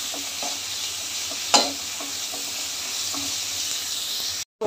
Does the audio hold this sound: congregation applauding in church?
no